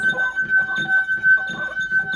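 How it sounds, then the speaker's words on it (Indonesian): A wet finger rubbed around the rim of a water glass makes a steady, clear singing tone that holds without a break, with soft rhythmic rubbing pulses beneath it. "bisa mendengar bunyi yang dihasilkan ketika jari kita dicelupkan ke dalam air dan digerakkan di atas bibir gelas seperti ini"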